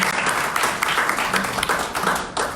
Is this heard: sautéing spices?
no